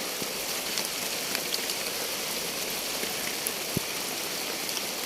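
Heavy rain pours at night during a storm at a rural forest farm, a dense, steady roar of water with scattered sharper drops and no voices.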